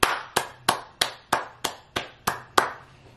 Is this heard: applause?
yes